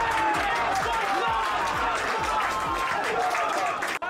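Home crowd at an Exeter University men's hockey match cheering and applauding, a continuous moderately loud mass of clapping and voices under a commentator's narration.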